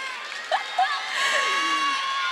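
Fans at a fan meeting shriek and cheer, with high squeals rising over a steady crowd roar that builds toward the end.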